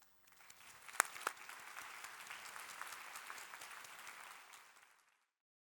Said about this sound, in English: I also would like to ask everyone to thank our wonderful speakers in a round of applause.